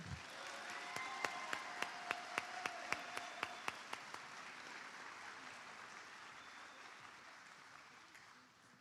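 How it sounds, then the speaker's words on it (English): Audience applause at an FFA banquet, a dense, steady wash of clapping in a room that slowly fades, with a single person clapping loud and close in an even rhythm at the start. "Please give them a round of applause because they are amazing."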